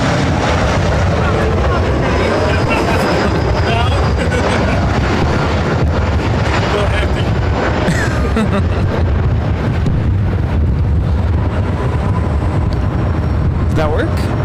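An aircraft takes off at LAX, a loud, continuous rumbling roar buffeted by heavy wind noise, with radio voices mixed in.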